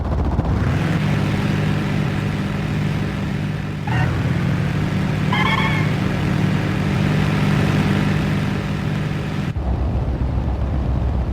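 Engine of a Garden car in Final Fantasy VIII, a loud, steady droning hum like a go-kart that runs on for several seconds with brief shifts before cutting off.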